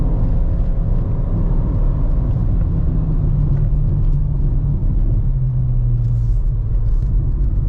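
A 2023 Fiat Argo Trekking drives in sport mode, its engine and road rumble forming a loud, steady low drone heard from inside the cabin, with a faint rising tone near the end.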